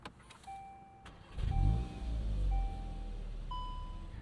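A warm 2026 Volkswagen Golf GTI S engine cranks and catches after a few faint clicks and chimes, then settles into a low idle, heard up close with the door open and no talking.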